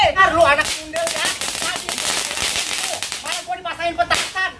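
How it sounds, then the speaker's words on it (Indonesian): Firecrackers set off at a firecracker party, with a rapid burst of sharp cracks and pops through the middle of the clip. Voices talk over the bangs. "Malah gua dipasain petasan"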